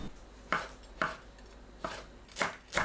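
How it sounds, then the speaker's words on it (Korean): A knife thinly slicing shiitake mushroom stems on a cutting board, five crisp, separate chops spaced about half a second apart, close and clear over a quiet kitchen background. "대를 얇게 썰어주세요."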